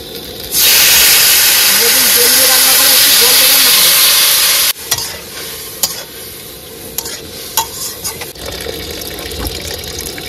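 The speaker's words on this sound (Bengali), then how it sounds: "একটু জল দিয়ে দিই হালকা।" Water poured into a hot, dry wok with potatoes bursts into a loud hiss of steam for about four seconds, then settles into quieter frying with intermittent stirring scrapes.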